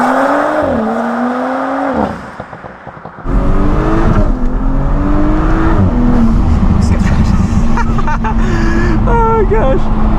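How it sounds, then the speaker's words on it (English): A tuned Audi S5 Sportback accelerating hard under turbo boost, its engine note rising through loud, sustained pulls with a brief lift between gears, heard from inside the cabin with a voice talking over it. "that's when you really start feeling the turbos kicking in. And that's when the acceleration just comes on hard"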